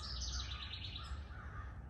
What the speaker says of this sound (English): let's just take a second to hear my little friend. I think it's called a barn wren.